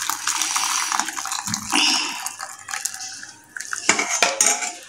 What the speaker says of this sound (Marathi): ही कढी आपण सर्विंग बाउलमध्ये काढून घेतो आहे